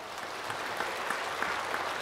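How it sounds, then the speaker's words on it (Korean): Church congregation applauding during a sermon, a full, even roar of clapping that holds steady at close range and fairly loud, no voices above it. "박수 한번 해주시면 좋겠어."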